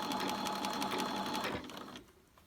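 A sewing machine runs steadily while top stitching along a beret seam, a close continuous whir with rapid needle rhythm that slows and stops partway, leaving near quiet.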